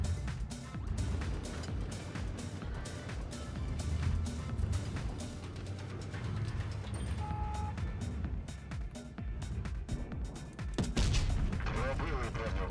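Heavy tank cannon shots and explosions in the video game World of Tanks Blitz boom repeatedly over a constant engine rumble, with a voice talking intermittently underneath.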